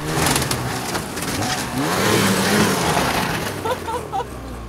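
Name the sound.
snowmobile engine revving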